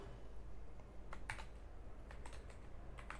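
Computer keyboard keys clatter in a few quick, light clusters while a login screen is typed during a coding class, faint and close over a steady background hiss, with no voices.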